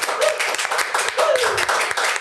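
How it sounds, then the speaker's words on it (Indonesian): Clapping hands at a podcast session with vocational interns, a short burst of moderate applause from a small group mixed with talking voices. "Oke, tepuk tangan dong."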